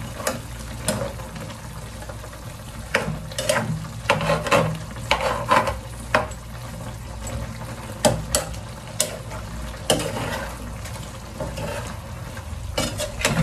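Chicken adobo stirred in a pan just after vinegar goes in, with steady low sizzling under repeated scraping and clinking strokes of a utensil at irregular intervals, fairly close and moderate in level.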